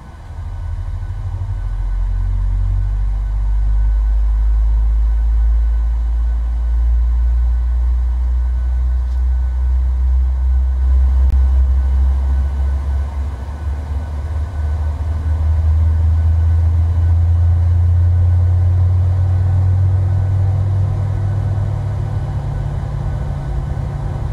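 A PMDG 737 jet engine spools up during start in a flight simulator game, heard as a steady, loud low rumble that swells slightly and holds for the whole stretch with no talk.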